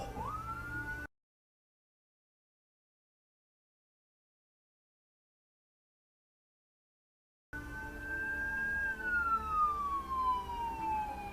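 Ambulance siren on a road, a faint, rising then falling electronic wail heard briefly at the start and again after a long silent gap, with traffic noise underneath.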